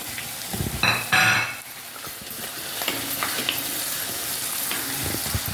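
Coconut pieces sizzle as they are sautéed and stirred in a pan for a clam roast, with a few scraping clanks of the spoon early on over a continuous close frying hiss.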